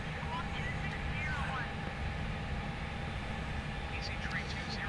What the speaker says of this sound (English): this plane is a lot more noisier than some of the other planes